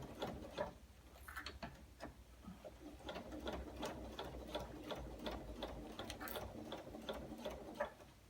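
A sewing machine basting the lining fabric of a stand-firm zip pouch, running in short bursts of rapid mechanical stitching with ticking clicks, close and moderately quiet, with no talking.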